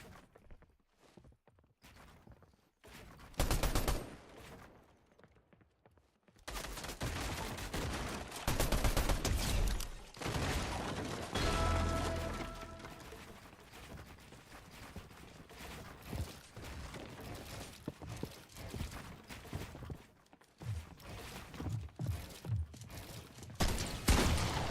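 Gunshots in Fortnite ring out in bursts and rapid volleys over roughly twenty-five seconds, loud and close, mixed with clicking mechanical game effects and brief pauses of near silence.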